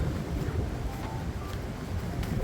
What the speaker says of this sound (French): il y a toujours autant de vent, mais on est un petit peu à l'abri parce que on est dans la forêt